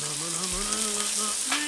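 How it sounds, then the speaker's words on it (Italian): Chicken breast browns over low heat in a pan, giving a steady, close sizzle and frying crackle throughout with no talk. "E a fuoco lento adesso facciamo rosolare anche questo lato"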